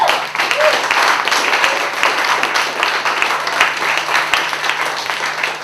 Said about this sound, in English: Clap it up some more for Canada's own Dwayne